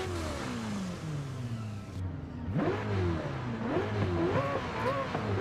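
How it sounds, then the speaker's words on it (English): A high-revving twin-turbo car engine in Forza Horizon 5 revs and accelerates, its pitch climbing and falling through repeated sweeps, moderately loud and close, with a brief dip partway through. "But it's no longer naturally aspirated, so that's fine. I can hear those turbos."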